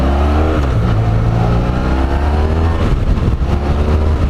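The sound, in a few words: Honda VFR1200F motorcycle engine revving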